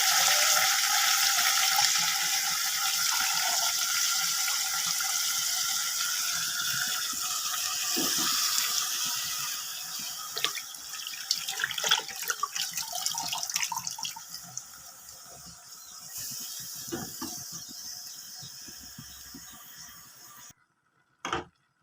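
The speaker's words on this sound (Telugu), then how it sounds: "తోటకూర కడిగి తిరగమాతలో పెట్టుకున్నాం" Amaranth and spinach leaves are washed in water in a home kitchen, with continuous running-water splashing and sporadic clatter of handling the leaves and vessel, nearby and fairly loud, ending abruptly.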